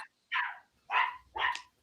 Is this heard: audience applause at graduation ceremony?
no